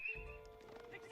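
Horses in Age of Empires, a short whinny over the clatter of hooves and game battle noise, faint and busy with overlapping effects.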